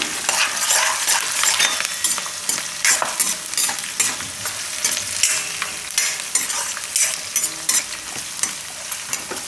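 Black raisins frying in hot oil with curry leaves, a steady close crackling sizzle with frequent scraping stirs of a spoon against the pan, loud throughout with no talking.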